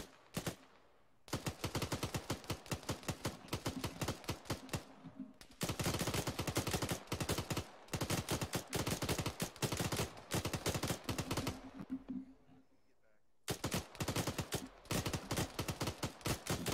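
Rapid automatic gunfire in the military video game Arma 3, set in a Gulf War Desert Storm scenario, rattles in long sustained bursts broken by short pauses, loud and close throughout.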